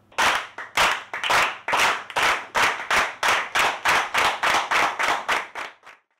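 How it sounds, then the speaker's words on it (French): Audience members at a club meeting clap in unison, about fifteen loud, sharp, evenly spaced claps in a steady rhythmic beat, with no talk over them. "Et nous allons lui faire un tonnerre d'applaudissements"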